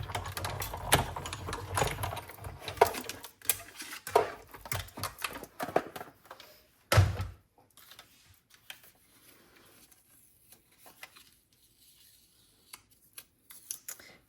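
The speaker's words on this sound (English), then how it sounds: "Bring your cut and emboss machine over. And let's run that through." Paper card run through a cut and emboss machine, making a clattering mechanical whir with ticking bursts for about seven seconds, then faint scattered handling clicks in near quiet.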